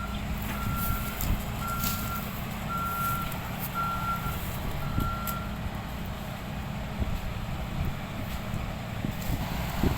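A ten-wheel truck backing up on a farm field, its reversing alarm giving five evenly spaced beeps over a steady engine rumble and wind noise, moderately close.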